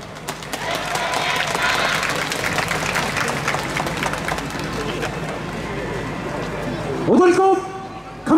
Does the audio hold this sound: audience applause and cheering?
yes